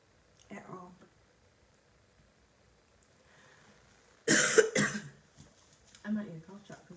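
A woman coughs in a short burst of two or three loud, harsh coughs, close and clear, preceded and followed by brief quiet talk.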